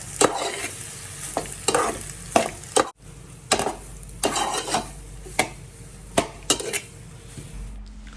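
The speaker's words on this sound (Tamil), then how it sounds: "போட்டு நல்லா கிண்டி விடுங்க." Boiled macaroni stirred in a pan with a bay leaf, a spoon scraping and clinking against the metal in repeated strokes over a faint sizzle, close and fairly quiet with no talking.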